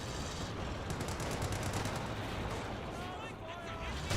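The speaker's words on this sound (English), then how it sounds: "Grenadiers who took a bit of damage there, just firing away." Grenadiers' gunfire in Company of Heroes 2 crackles in a dense, continuous stream mixed with booming artillery, while a commentator talks over the battle noise.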